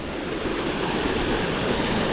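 Water pours strongly through a sluice gate beside the sea, a steady broadband rushing roar that stays loud and continuous throughout, with no voices.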